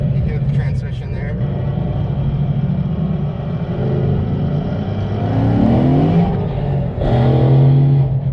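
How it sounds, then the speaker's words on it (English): A Stage 3 tuned car with traction control off accelerates hard, its engine note climbing loudly and steadily before a soft gear shift drops the pitch and the revs build again, heard up close with no talk. "We're just gonna hit it real quick, and I'm gonna soft shift it. You hear the transmission there?"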